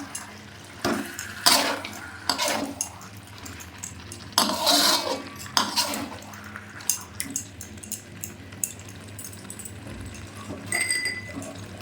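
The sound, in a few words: stirring chicken in a pot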